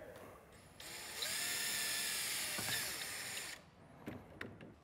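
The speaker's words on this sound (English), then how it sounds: "So we're gonna go ahead and drill a couple holes." A power drill bores holes for a winch wireless receiver control box being installed on a Polaris RZR XP 1000, giving a steady loud whine for about two seconds, then brief clicks and rattles.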